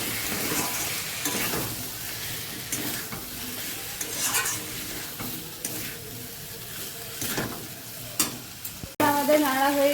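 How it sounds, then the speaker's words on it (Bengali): Drumsticks (moringa pods) fry in hot oil with spices while being stirred in a pan, a steady close sizzle with scraping strokes and occasional clinks of the utensil. "সজনে ডাঁটাগুলো একটু তেলের ওপরে মেলে নিব মশলাগুলোর ওপরে"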